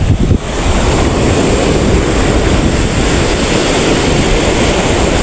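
Rough sea waves wash continuously against the shore, a loud broadband rush mixed with heavy wind buffeting close to the microphone, with no voices.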